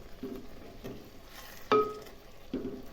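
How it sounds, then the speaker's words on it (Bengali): A spatula stirs Champaran handi mutton masala in a pot on a gas stove, giving a few quiet scrapes and soft thuds spaced apart against a faint, hushed background. "এবার আস্তে করে খুন্তির সাহায্যে একটু নাড়াচাড়া করে দিচ্ছি"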